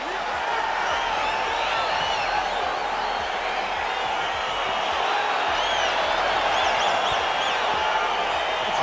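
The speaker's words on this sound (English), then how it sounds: "crowd getting excited as this fight gets underway" A large arena crowd at a UFC fight roars and cheers steadily and loudly as the bout gets underway, a dense continuous wall of voices with scattered whoops and shouts throughout.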